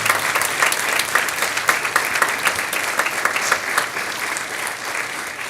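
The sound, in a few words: audience applause for school board candidates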